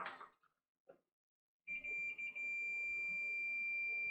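A multimeter on continuity gives a steady high beep while testing for a short on an RX6600 graphics card PCB; the tone starts abruptly after a few faint handling sounds and holds loud and close.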